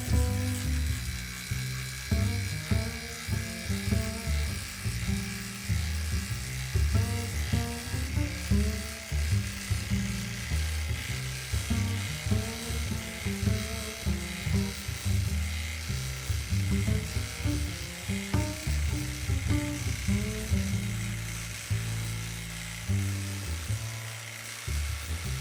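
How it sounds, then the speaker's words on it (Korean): A Makita impact driver sinks a lag screw into wood, the motor whining steadily while rapid hammering impacts rattle throughout, loud and close with no talk. "이번에는 막기다로 한번 박아보겠습니다"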